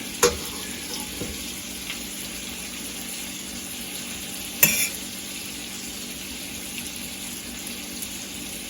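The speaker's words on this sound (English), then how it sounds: "So we're going to get this frying pan going." Steady sizzling of French toast frying in a pan, with a couple of faint clinks and scrapes.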